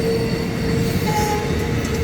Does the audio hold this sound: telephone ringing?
no